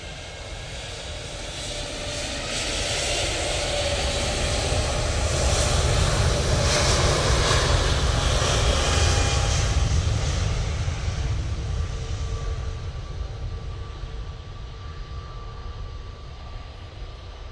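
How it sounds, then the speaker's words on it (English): An Airbus A320neo jet taking off from Manchester Airport bound for Munich, a broad engine roar that swells to a loud peak midway then slowly fades into the distance. "Lofty A320neo going off to Munich now."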